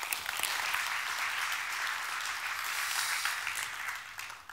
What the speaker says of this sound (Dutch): Graag een hartelijk applaus voor Robert-Jan Verkes